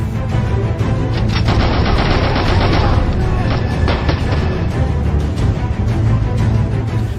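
A pistol fires in a loud, dense burst of gunshots, with sharp cracks blurring together into continuous booming noise throughout.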